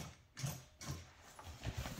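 A sewing machine stitches through a golf cart seat cover, running in short, even bursts with brief pauses between them, moderately loud and close with no talking.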